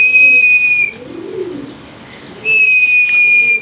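Pigeons kept at home cooing close by, soft low coos in a short run, mixed with a sharp steady whistle-like tone at the start and again near the end; no talking.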